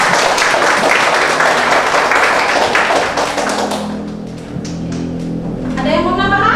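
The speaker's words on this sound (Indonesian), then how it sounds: "tepuk tangan" Audience clapping in a classroom presentation, loud and fairly dense at first, then thinning out as voices and a few taps take over near the end.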